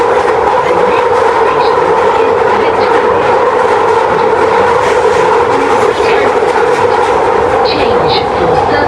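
A UK train runs along at speed, a loud steady interior rumble and clatter of rolling wheels continuing throughout.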